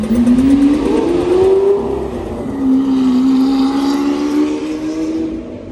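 A car revs hard and drives past on a night street, its engine whine rising and falling loudly and close, then fading away at the end.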